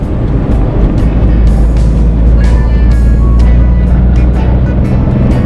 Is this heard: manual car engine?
yes